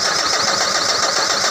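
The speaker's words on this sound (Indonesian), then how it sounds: "Dinamo startnya sampai berasa tapi enggak mau hidup." Mitsubishi Canter truck engine cranking steadily on its starter motor without firing, a continuous close, loud whirring drone with no catch or rise in revs.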